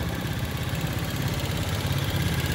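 A Yamaha Lagenda fuel-injected motorcycle with a Uma Hi Cam fitted idles steadily close by, its even engine rumble carrying a fine rapid tappet ticking throughout, with no voices.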